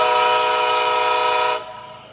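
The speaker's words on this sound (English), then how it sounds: "Nathan K5LA ACS 64 Highhorn." A Nathan K5LA high horn on an ACS-64 locomotive in a train video game sounds one loud, sustained chord-like blast for about a second and a half, then cuts off abruptly into a brief fading tail.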